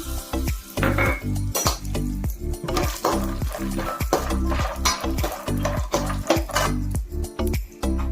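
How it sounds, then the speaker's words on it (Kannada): Peanuts roast in a dry pan, stirred with a utensil that scrapes and clinks against the metal in repeated strokes, with a faint sizzle and rattle of nuts between the close, steady stirring sounds. "ಕಡಲೆ ಬೀಜ ಉಟ್ಕೊತಾ ಇದ್ದೀನಿ."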